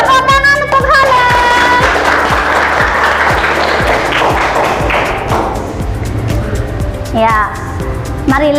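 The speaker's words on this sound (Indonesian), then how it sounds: "Tepuk tangan untuk Holil." Classroom applause for a student during a fiqh teaching session, rhythmic group clapping that starts loud and close, with a voice speaking over it and some thumps near the end.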